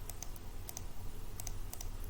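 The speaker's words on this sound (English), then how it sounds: "Forgive me for my typing." Quiet, quick typing on a computer keyboard, with light clicking keystrokes in short bursts, alone and without talk.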